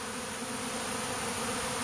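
A swarm of honeybees hovers close around, producing a dense, steady buzzing drone that continues without a break.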